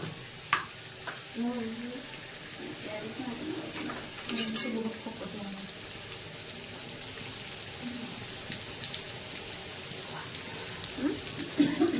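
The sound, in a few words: onions frying and being stirred in hot oil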